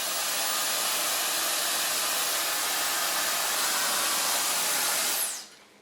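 A hair dryer blows steadily and loudly on curly permed hair, a close, even rushing hiss that holds for several seconds before it is switched off and quickly fades.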